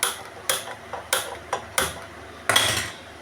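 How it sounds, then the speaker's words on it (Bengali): A metal wok clanks and scrapes in a string of sharp knocks as it is moved onto a smaller gas burner, about six separate impacts spread unevenly, close by and fairly loud. "আমি ছোট গ্যাসে ট্রান্সফার করে দিচ্ছি কড়াইটাকে"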